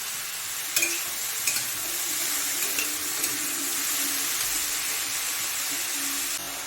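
Sliced snake gourd (chichinga) sizzles steadily in a hot pan with no added water, with a few sharp scraping knocks as it is stirred, and no talking.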